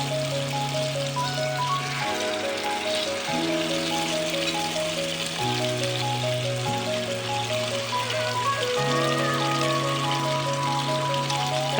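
Paneer frying on a tawa, restaurant style with masala, making a steady close sizzle with no voices, holding the same loudness for about twelve seconds over a low hum.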